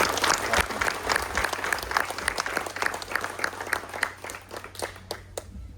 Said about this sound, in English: Let's give Abe a round of applause